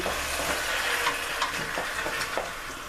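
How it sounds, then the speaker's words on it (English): A pot of Jamaican oxtails being stirred as seasoning is worked in, giving a steady wet sizzle with soft scraping strokes at a few irregular moments, close and continuous with no talking. "I'm going to stir that in."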